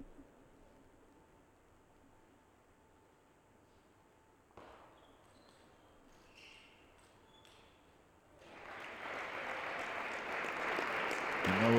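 A crowd at a table tennis match breaks into applause and cheering that swells louder toward the end after a quieter stretch.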